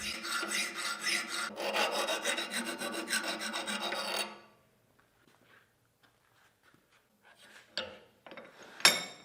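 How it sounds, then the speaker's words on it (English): A metal file rasps scale off forged iron for a seax blade in steady, rhythmic back-and-forth strokes for about four seconds. Near silence follows, broken by a few faint clinks and one sharper knock at the end. "just filing away at the scale and getting a bit of clean metal"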